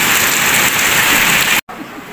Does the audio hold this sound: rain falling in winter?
yes